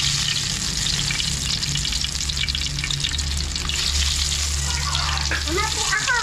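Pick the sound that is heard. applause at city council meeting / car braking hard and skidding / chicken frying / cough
chicken frying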